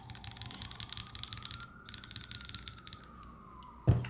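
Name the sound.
siren passing outside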